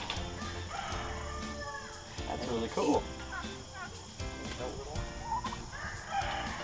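Turkeys gobble and call in bursts close by, with someone talking over and between the calls.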